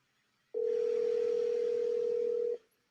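A steady telephone dial tone rings out loud and continuous for about two seconds, just before a call is placed, with no keypad tones.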